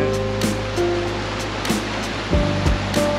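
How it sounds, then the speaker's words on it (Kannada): Mountain water rushes hard and close along the roadside on the way to Gulmarg, a constant broad roar of torrent with a few louder surges and splashes. "ಇಲ್ಲಿ ನೋಡ್ರಿ ನೀರು ಹೆಂಗರಿಯುತ್ತೆ"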